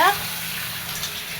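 Water pours steadily into a cooking pot for fish curry broth, a soft continuous gush heard close up and alone, after a brief faint voice at the start.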